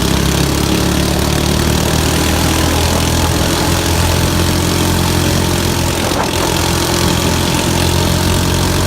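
A Honda GX390 engine runs steadily close by, a loud, continuous mid-to-low rumble with a brief surge in the middle and no speech over it.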